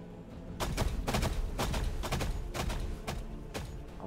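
Units in a Warhammer 40K: Battlesector battle fire weapons in a rapid series of loud, sharp shots, about a dozen in quick succession with some overlapping volleys.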